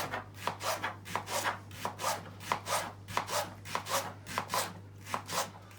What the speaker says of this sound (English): just going to rough cut the leeks, take the end off